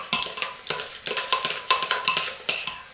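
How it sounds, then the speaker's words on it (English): A utensil stirs curry powder into soap batter in a container, producing a steady run of close, rhythmic scraping and clinking strokes with no talking. "So there goes our curry powder. And now we're going to stir that up."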